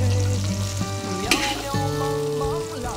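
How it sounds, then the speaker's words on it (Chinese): Pork fat and homemade chili bean paste sizzle loudly in a hot wok, with a spatula scraping and clanking as the mix is stirred, close up and continuous. "先把肥肉放下去，泡下油锅，然后把今天自己做的豆瓣放下去"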